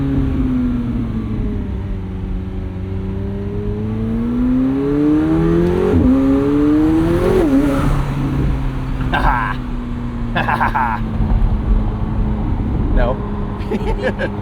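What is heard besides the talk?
McLaren 750S twin turbo V8 supercar engine driving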